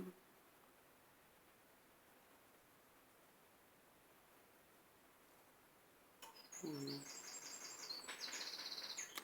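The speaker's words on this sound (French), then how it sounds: "J'entends les oiseaux." Quiet hiss gives way to birds chirping, a run of high tweets and calls that grows busier and louder over the last few seconds.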